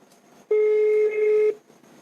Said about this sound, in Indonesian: Ini saya telepon ulang, mudah-mudahan bisa ini.